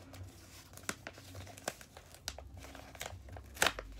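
Jewelry packaging that had been taped shut is pulled open up close, with soft crinkling, tape peeling and paper tearing in quiet, irregular bursts.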